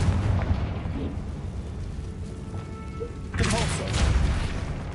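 A Confringo blasting spell bursts in Hogwarts Legacy, a rumbling game explosion heard over a steady low roar, with a sharper bright blast surging late and lingering.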